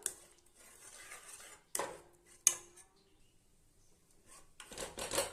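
Ladle scraping and knocking against a pot while mashing soft cooked moong dal, a few sharp metallic clinks separated by quieter stirring and squishing, close and fairly faint.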